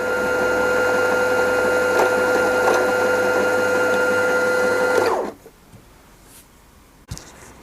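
A Pfaff Passport sewing machine winds a bobbin with a steady, close electric whir for about five seconds, then cuts off abruptly, leaving quiet and a single faint click.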